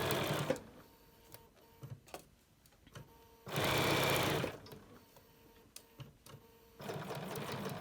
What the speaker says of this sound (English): we're going to sew all the way down, and now we're going to fasten on top